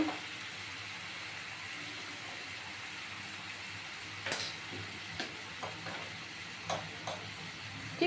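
Onion, garlic and ginger frying in a pan as part of a prawn malai curry, a soft steady sizzle with a few light clicks and taps of stirring, no one speaking.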